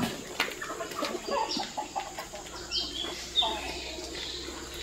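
A hen and her chicks cluck and cheep over steady outdoor background noise, with scattered close peeps throughout and a faint voice underneath.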